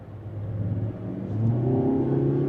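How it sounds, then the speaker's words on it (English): Mazda CX-90 PHEV plug-in hybrid engine starts up and joins in, a low steady hum that swells into a louder mid-range drone partway through, heard close and alone. "and the engine will kick on."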